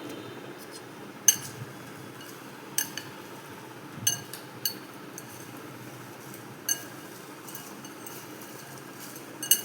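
Potato chips are tossed with squeezed lime juice in a bowl, giving soft crunchy rustling broken by occasional sharp clinks against the bowl, fairly close and moderately quiet.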